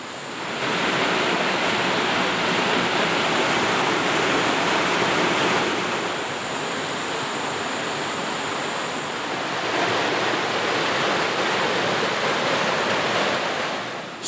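A clear forest river rushes steadily, a dense broadband wash of flowing water that stays loud and even throughout with no voices.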